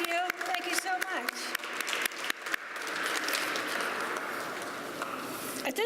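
An audience applauds a trio at a comics art event, a few scattered claps building into a steady, moderately loud round of clapping from a room full of people after a brief spoken thank-you.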